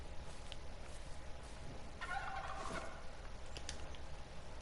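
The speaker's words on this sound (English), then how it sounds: "Okay, there's a gobbler somewhere down here." A wild turkey gobbles in the Call of the Wild hunting game, one rattling burst rising from a steady outdoor ambience of wind and insects, moderately distant and not loud.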